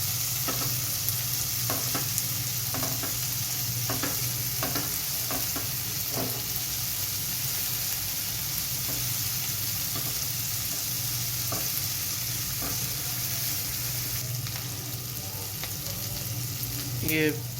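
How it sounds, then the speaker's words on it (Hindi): Chopped capsicum sautés with onion in a hot pan, a steady, close sizzle running throughout, punctuated by scattered clicks of a stirring spoon against the pan. "अब हम इसके अंदर शिमला मिर्च कटी हुई ऐड कर देंगे। इसको थोड़ा सा भून लेंगे।"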